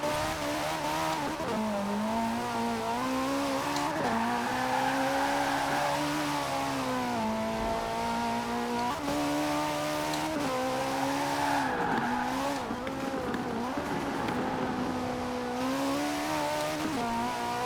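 A wide-body Toyota GT86 in Forza Horizon 4 drives continuously, its engine note rising and falling through gear changes with tire squeal and skidding, loud and close throughout with no talk.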